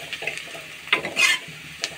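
Spices such as degi mirch and fenugreek being stirred in a pan, giving a short run of scraping and sizzling strokes, close and fairly loud, with a couple of sharper scrapes in the middle and no talk.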